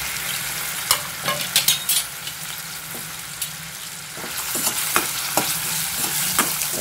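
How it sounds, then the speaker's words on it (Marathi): Paneer pieces frying fast in hot oil in a pan, a continuous close sizzle broken by repeated clinks and scrapes of a spatula, stirring in uneven bursts with no voices. "याच्यामध्ये आपल्याला पनीरचे पीसेस तळून काढायचे आहेत"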